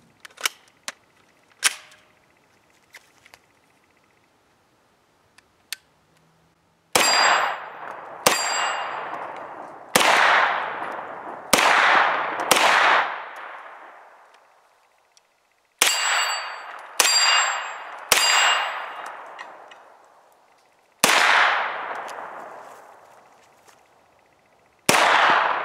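A CZ Scorpion Evo 3 pistol with a tailhook adapter fires about a dozen sharp shots, a few scattered early and then quick strings, each followed by the ringing clang of rounds striking steel targets, loud and near.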